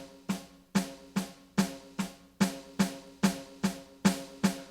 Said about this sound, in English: If I played it very slowly,